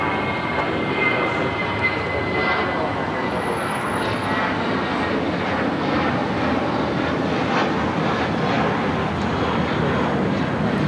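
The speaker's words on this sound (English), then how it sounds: "This is Spirit Airlines 449 taking off to Atlanta on the A320." A Spirit Airlines Airbus A320 takes off from Los Angeles airport, its engines a steady, broad roar heard from a distance and holding constant throughout.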